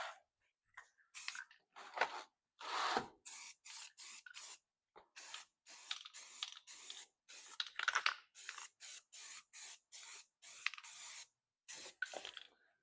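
A spray can lays down light coats of paint in a run of short hissing bursts separated by silent gaps, close and crisp, each burst about half a second long.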